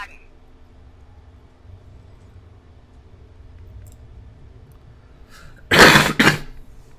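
A single loud, harsh cough bursts out near the end after several seconds of quiet room hum, close to the listener.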